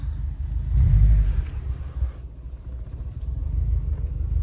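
A 2012 Subaru WRX Impreza engine rumbles low and steady from inside the car after a spark plug change, rising briefly then settling into a constant hum.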